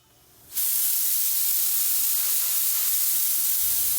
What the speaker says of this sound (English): So I spray 2 nice coats of epoxy primer